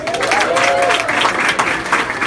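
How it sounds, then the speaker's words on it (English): Audience applause at a New York City Council campaign fundraiser: brisk, crowded clapping at close range, loud and steady, with a faint whoop or voice rising briefly near the start. "Give her a round of applause."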